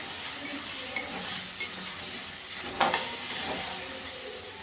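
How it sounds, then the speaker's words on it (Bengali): Spice paste with cumin powder frying in a pan for a fish curry, giving a soft steady sizzle broken by a few spoon stirs and scrapes against the pan. "একটু জিরের গুঁড়ো দিয়ে দেবো এক চামচ মশলাটা ভালো করে একটু কষিয়ে দেবো"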